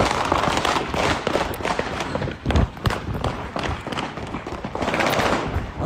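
Rapid bursts of automatic gunfire sound like popping firecrackers inside a rap track, with repeated sharp cracks and thumps mixed into loud, dense music over several seconds.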